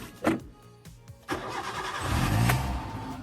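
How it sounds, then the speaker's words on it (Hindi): A car engine starts up: a few starter clicks and cranking, then the engine catches and settles into a rising, steady idle as it warms up, close and fairly loud. "ये गाड़ी करते हैं अपनी वार्म।"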